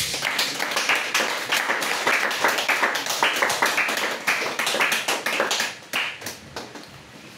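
A church congregation claps and applauds, a dense, fairly close rush of many hands that holds steady, then thins into scattered claps before fading out.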